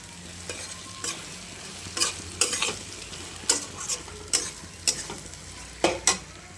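Dried chatu shutki fish tossed into fried onions in a hot pan, a steady sizzle broken by repeated sharp scrapes and stirring knocks of a spatula, close and fairly loud, no voices.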